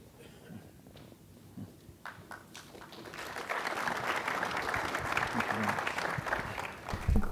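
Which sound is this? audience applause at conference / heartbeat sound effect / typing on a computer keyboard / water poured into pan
audience applause at conference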